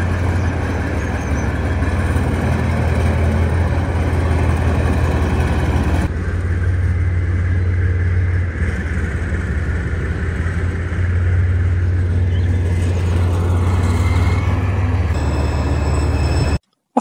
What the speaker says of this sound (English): We've all been looking forward to having a proper drive in the T-72 since it arrived